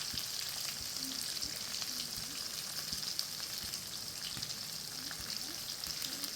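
Shallots, green chilies and curry leaves fry in hot oil, a steady close hiss and crackle with small pops running throughout.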